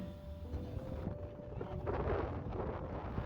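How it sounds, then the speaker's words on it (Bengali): Strong sea wind at St Kilda Beach, Melbourne, buffets the microphone in steady low rumbling gusts, swelling louder partway through, with no talking. "কেমন হাওয়া হচ্ছে দেখুন যেন উড়িয়ে নিয়ে চলে যাবে"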